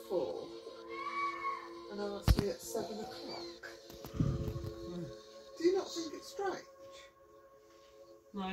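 Kittens meowing in short, high, scattered cries, interleaved with frequent talk and a few sharp knocks and handling noises nearby.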